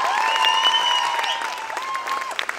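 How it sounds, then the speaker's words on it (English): Audience at a talk show applauds in a brief burst of clapping, with a sustained musical tone or jingle running through it. "Round of applause for just that one fact."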